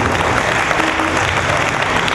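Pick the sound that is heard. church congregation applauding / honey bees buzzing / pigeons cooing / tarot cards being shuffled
church congregation applauding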